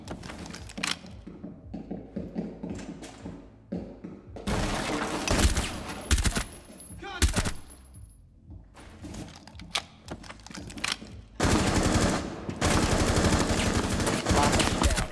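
Heavy gunfire in Rainbow Six Siege Terrorist Hunt, with repeated loud bursts of automatic fire and shots broken up by short quieter gaps, close and dense throughout.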